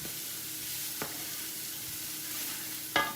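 Minced garlic sizzling in a pan of pasta sauce, a steady quiet frying hiss with a couple of short stirring scrapes, no talking.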